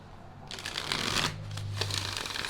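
A tarot deck is shuffled close up in two quick riffling bursts of crisp card flutter over a low hum.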